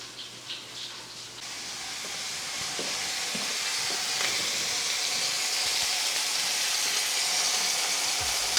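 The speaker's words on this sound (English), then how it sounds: "I've turned it up on its side so we can sear off the side" A thyme-tied pork shoulder for apple cider pulled pork, turned on its side to sear in a hot pan. A brief soft clatter gives way to a loud, steady sizzle and hiss that builds and holds close, with no voices.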